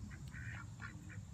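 A duck quacks several times in short nasal bursts outdoors, faint and somewhat distant over a steady background hiss, with no talking.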